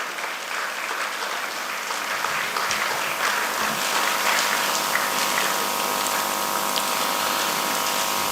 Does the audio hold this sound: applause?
yes